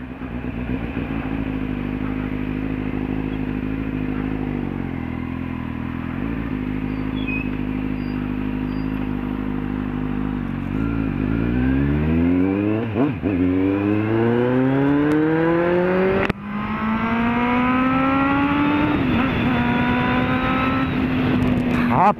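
A loud Kawasaki Z750 motorcycle engine idles with a deep rumble, then revs hard several times, pitch sweeping up and down, close by and without voices.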